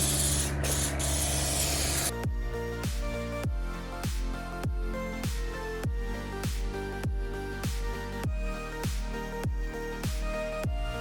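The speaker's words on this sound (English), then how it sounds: "I'm gonna spray a coat of this gloss clear sealer on it" An aerosol can of clear gloss sealer hisses in a long burst, then sprays in a rapid series of short, even spurts, close and clear, with no talking.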